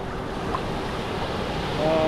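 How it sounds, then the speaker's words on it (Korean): Ocean waves wash in steadily at Kamala Beach, Phuket, a continuous loud rush of surf in shallow water with wind noise buffeting the microphone. "물이 밀려옵니다. 파도가 밀려와요."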